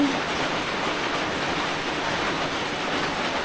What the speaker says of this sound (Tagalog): Ulan talaga siya guys.